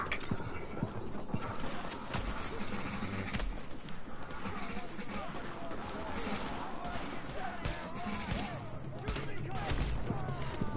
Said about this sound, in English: There's guys to my left just shooting me.